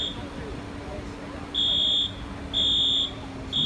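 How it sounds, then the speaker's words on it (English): A fire alarm sounding inside a grocery store, repeating a shrill electronic tone in half-second bursts with short gaps, over a constant low hum and crowd background. "and the alarm went off"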